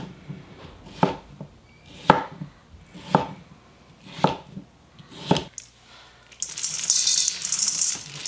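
A knife cuts the core out of cucumbers being prepared for water kimchi, giving about five evenly spaced, crisp chopping knocks on a board, followed by a louder, steady rustling clatter at the end.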